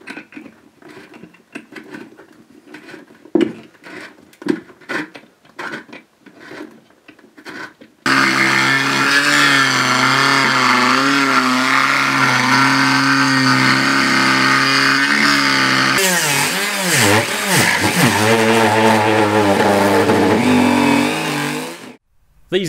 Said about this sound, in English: If it's still too small, we use a Dremel tool to just bring it out.